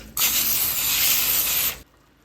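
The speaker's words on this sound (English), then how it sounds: "And just spray them down." Cooking spray is sprayed onto two 8x8 aluminum pans in one continuous, close, loud hiss lasting about a second and a half, then cuts off to quiet.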